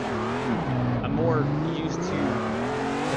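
A car drifting in Assetto Corsa, its engine droning and wavering in pitch as revs rise and fall through the slide, steady and close with some talk over it.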